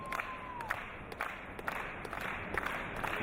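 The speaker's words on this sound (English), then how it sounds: "And listen to the crowd." A wrestling crowd cheers for Chris Bey during a bout against Danny Limelight; a steady crowd roar with scattered claps and shouts, moderately loud and continuous across the short stretch.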